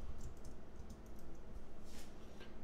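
Quick, soft typing on a computer keyboard, with a steady stream of close, light key clicks over a low background hum.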